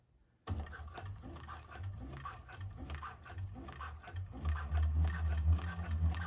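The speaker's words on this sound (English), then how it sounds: "We're just going to top stitch and back stitch 1 or 2 stitches." A 1341 cylinder arm sewing machine top stitching TPU vinyl for a bag: after a brief quiet start, a rapid, steady stitching patter with mechanical thumps runs close and fairly faint, growing heavier toward the end.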